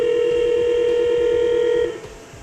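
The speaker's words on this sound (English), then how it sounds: "Pick up the analog phone and dial the extension number of MyPBX." An analog phone handset linked through a NeoGate TA FXS gateway to an IP PBX plays a steady, loud dial tone before a key press cuts it off abruptly near the end.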